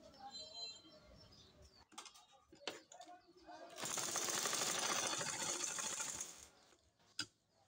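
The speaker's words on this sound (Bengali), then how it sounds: "এখন আমি ফিতাটা সেলাই করে নিব।" A sewing machine runs in a steady, fairly loud burst for about three seconds while stitching a ribbon onto a hijab, with quieter handling noises before and a brief knock at the end.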